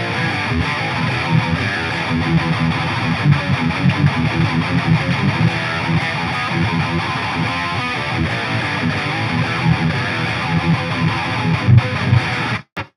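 A modded Marshall JCM 800 2203 amp with its first preamp tube run hotter for cascaded gain, giving a dense, heavily distorted electric guitar riff that plays steadily and loud for the whole stretch before cutting off abruptly.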